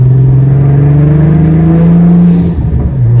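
A big-turbo 2008 Saab 9-3 Aero XWD engine drones loudly close by with a rising pitch, then drops off sharply with a sputtering exhaust burble.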